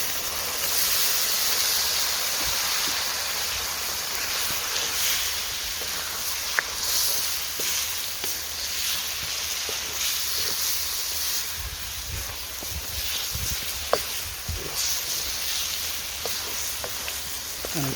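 Water poured into a pan of frying lamb curry with turmeric and garam masala, giving a steady broad hiss and sizzle that runs close and fairly loud throughout, with small pops and crackles scattered through it.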